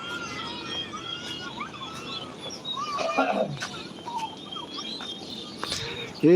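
A flock of birds calls with scattered chirps and tweets outdoors under a cloudy sky, fairly faint, with a thud near the end.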